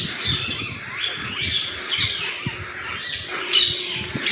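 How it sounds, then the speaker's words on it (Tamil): Sparrows and parrots call around a Murugan temple among old trees, with repeated sharp squawks and chirps overlapping at close range against an outdoor background. "குருவி சத்தம், கிளி சத்தம் அவ்வளோ அழகாக இருக்குங்க"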